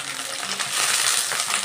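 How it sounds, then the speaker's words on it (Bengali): Ginger and water hit hot oil spiced with cinnamon, bay leaf and cumin seeds, a sudden loud hiss that builds into a bright, steady sizzle close by. "এবার দিচ্ছি আমি একটু আদা, আমি দিয়ে দিচ্ছি একটু জল"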